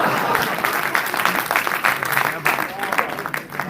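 An audience at a Hindi poetry recital by the poet Sampat Saral bursts into loud, dense applause. Many hands clap continuously and close up, with crowd noise mixed in.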